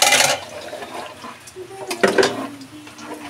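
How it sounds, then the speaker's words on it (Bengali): Water poured into a pot of rice frying for biryani, a brief splashing gush at first followed by bubbling and hissing, with faint voices in the background. "চালগুলোকে একটু ভালোভাবে ভেজে তারপর আমি পানি দিয়ে দিই।"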